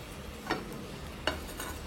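Slices of bread crisp in a pan over low gas for a chocolate ice-cream sandwich: a faint, steady sizzle runs throughout, broken by two brief clatters as the bread is shifted or flipped.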